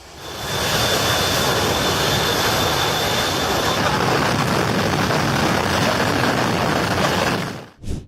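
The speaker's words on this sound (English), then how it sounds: "The jet blast from a Ukrainian Su-27 demonstrated the incredible power of its engines" A Sukhoi Su-27 fighter jet's engines roar at an air show before takeoff in a sustained, loud blast of broadband rushing noise that holds steady for several seconds before cutting off.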